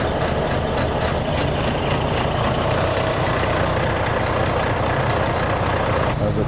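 A lorry engine idles roughly with uneven firing, a loud, close, continuous low diesel rumble with a knocking, irregular pulse that runs steadily throughout.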